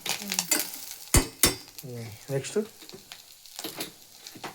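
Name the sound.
dry-roasting flax seeds in a pan on the stove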